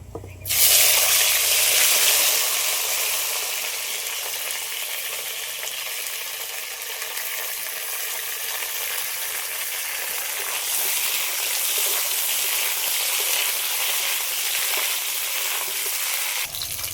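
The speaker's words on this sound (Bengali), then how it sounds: "আলুগুলো একটু লাল লাল করে ভেজে নিয়েছি" Potatoes fry in hot oil tempered with cardamom, cloves and cinnamon, giving a loud, steady broadband sizzle that swells at the start and holds throughout without a break, with no voices.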